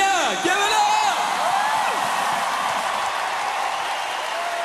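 Live concert crowd applauding and whooping for a singer, a dense wash of clapping and cheers with a voice calling out over it at the start, then a steady ovation.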